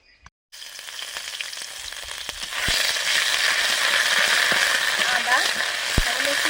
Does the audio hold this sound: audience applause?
no